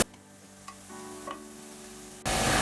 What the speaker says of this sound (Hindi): अब वेजिटेबल भी चिकन के साथ मैं हल्का सा इन्हें फ्राई कर लूँगी।